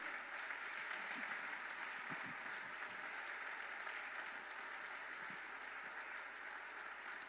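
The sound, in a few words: congregation applause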